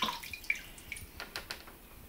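Sanitizer drips off a shaken immersion chiller in a few faint, scattered plinks and splashes, close by and quiet, with no talking.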